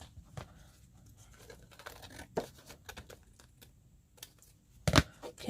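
Paper being cut for a shaker card craft, with irregular crinkles, snips and tearing rustles, close and quiet, ending in a sharper louder crunch near the end, no voices.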